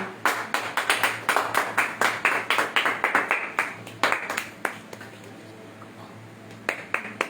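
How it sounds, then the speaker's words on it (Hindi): A church congregation claps hands together in welcome, a quick rhythmic run of sharp claps that thins out near the end, close and fairly loud with no talk over it. "आइए ताली बजाकर हम उनका स्वागत करें।"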